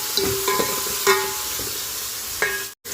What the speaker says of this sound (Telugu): ఇదే ఆయిల్లోనే టమాటా, పచ్చిమిర్చి కూడా బాగా ఫ్రై చేసేసుకున్నాను